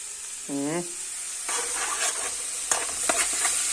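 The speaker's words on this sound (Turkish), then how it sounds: "Hemen tarhanamızı da ezelim." A spoon scrapes and mashes tarhana in a pot with soft, irregular stirring scrapes and knocks over a low hiss, following a brief voiced sound at the start.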